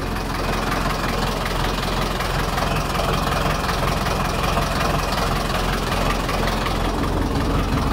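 An Ursus C-360 tractor engine, with its turbo running, idles steadily after a battery replacement, a loud, close, continuous low rumble with no break.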